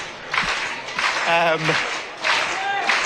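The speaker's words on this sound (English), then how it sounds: "Boston United fans, a bit of a clap going as we wait the ref." Football supporters of Boston United clapping steadily at a National League Cup match against Leeds United PL2 while waiting for the referee, a broad crowd applause with a commentator talking over it.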